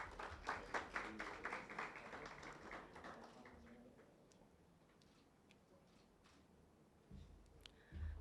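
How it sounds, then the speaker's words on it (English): An audience claps at a youth advisory council installation ceremony in Jamaica, with dense, fairly close applause at the start that thins out and fades to scattered taps and a quiet room. "let's keep the claps going, guys."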